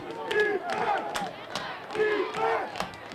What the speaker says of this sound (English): As the crowd cheers on the defense here to tighten up on the third down and long.